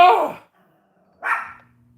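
Two sharp dog barks ring out alone, the first loud and close, a brief silence, then a second slightly softer bark trailing off.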